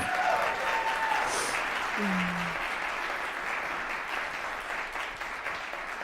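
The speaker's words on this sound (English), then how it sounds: "a huge, huge thank you and round of applause" An audience claps at a trumpet and piano recital, sustained applause that slowly thins toward the end, with a brief tone or voice heard early on.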